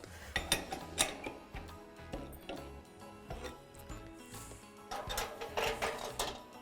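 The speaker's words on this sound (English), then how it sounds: "And now I'm going to just pop these into the hot oven." Metal tart tins of pecan and date tarts clatter and clink as they are slid into the hot oven of an ESSE Ironheart wood-fired cook stove, with sharp metallic knocks, an oven door handled, and light scraping, close and busy.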